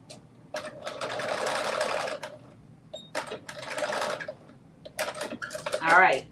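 A sewing machine stitching fabric pieces down for a New Look 6780 sewing project: two long runs of rapid mechanical whirring, close and loud, separated by short pauses and a few clicks, with faint background noise throughout.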